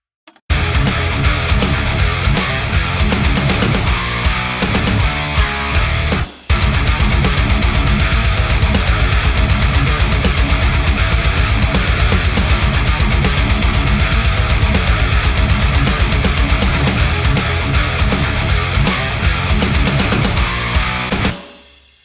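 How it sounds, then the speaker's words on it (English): A loud, dense metal music mix played through a mastering chain, with heavy distorted guitars and pounding drums running continuously, a brief cut near the start before it resumes and fades out at the end. "So I'll quickly let you hear the mix without Mojo on it."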